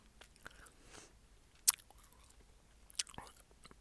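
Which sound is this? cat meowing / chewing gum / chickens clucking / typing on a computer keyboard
chewing gum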